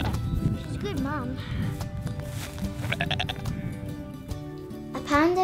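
Sheep and lambs on a croft in Shetland bleat several times in wavering cries, some close and some further off, over ongoing background noise.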